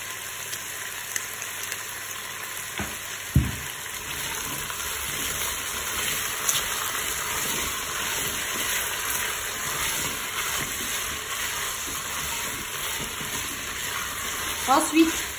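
Tunisian tajine frying and being stirred in a Cookeo multicooker, a quiet steady sizzle with occasional utensil knocks and scrapes against the pot, fairly faint and without speech.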